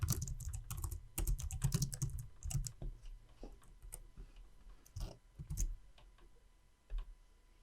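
Keys clatter on a computer keyboard as a shortcut is typed, a close burst of quick clicks followed by sparser, scattered taps fading in and out.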